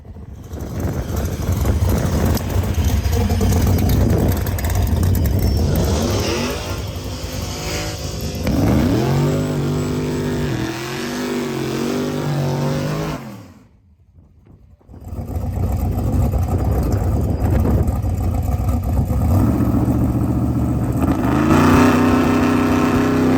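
A drag race car called Sugar Mama roars down the strip with a loud, sustained engine wail and gear shifts. It drops out suddenly partway through, then comes back as another long, loud engine pass with no talk.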